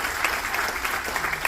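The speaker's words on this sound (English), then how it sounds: "So let's have a big round of applause for all of our International Allies." A crowd at a military appreciation event claps for international allies, a dense, steady round of applause that holds at an even level throughout.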